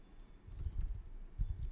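Quiet, brisk typing on a computer keyboard, with irregular clusters of key clicks close by and no talking.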